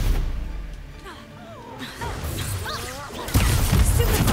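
A Confringo fire spell is cast in Hogwarts Legacy: warbling magical swoops and whooshes build up, then a loud, broad fiery burst erupts and holds to the end.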